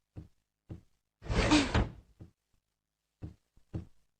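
A door in a Doraemon cartoon bangs shut, several short knocks and thuds spaced around one longer, louder rumbling slam in the middle, with no talking.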